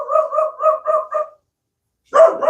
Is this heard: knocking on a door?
no